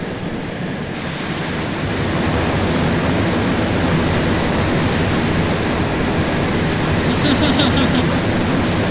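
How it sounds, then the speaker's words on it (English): An airplane engine in the ARMA 2 military video game drones loudly and steadily, building slightly in intensity as it accelerates for takeoff. "Your plane has so much more acceleration than mine does."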